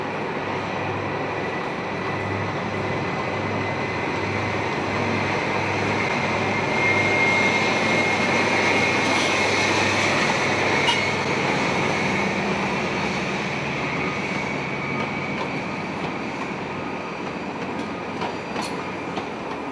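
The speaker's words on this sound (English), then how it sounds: "An HST for Paddington passes one of the last Class 58s in service." A First Great Western HST bound for Paddington roars past at Westbury in 2000, its engines and rolling wheels giving a loud, sustained rush that holds steady with faint clickety-clack.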